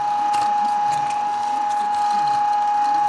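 A meat grinder runs the final fine grind of moose meat, a steady mechanical drone with a constant tone and faint rhythmic clicking, close and continuous, with no talking.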